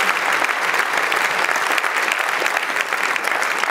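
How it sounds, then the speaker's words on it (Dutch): Dense, steady applause from a large audience at a sports gala in The Hague, sustained and loud throughout with no pauses. "Een groot applaus"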